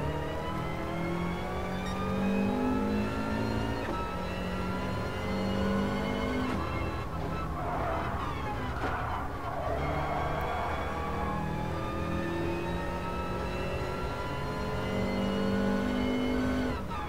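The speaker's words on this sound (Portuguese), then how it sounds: "O carro não quer virar." Race car engine in Gran Turismo Sport, a steady loud drone with rising and falling revs and shifting pitch throughout, close and continuous with no talk.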